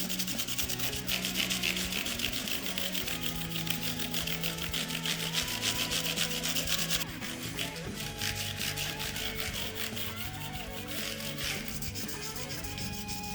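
A wooden guitar fretboard is hand-sanded with 1000-grit sandpaper pressed under a finger, producing continuous rapid back-and-forth rubbing strokes that are loud and close, easing slightly partway through.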